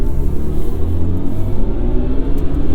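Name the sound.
BMW i4 M50 electric car accelerating with IconicSounds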